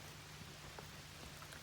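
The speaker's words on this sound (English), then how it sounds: "It's raining, it's raining," Steady rain falling outdoors at a camp site, with a constant broadband hiss and a few scattered drop taps, moderately loud with no voices.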